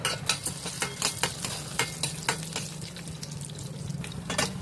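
Dried red chilies crackle in hot tempering oil along with mustard seeds, a steady close sizzle punctuated by repeated sharp pops and spatters, with occasional clinks of a utensil against the pan.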